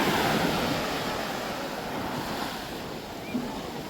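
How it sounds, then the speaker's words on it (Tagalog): Large ocean waves breaking along a Philippine shore where boats sit, a steady loud wash of surf mixed with wind buffeting the microphone. "Laki ng alon mga bay."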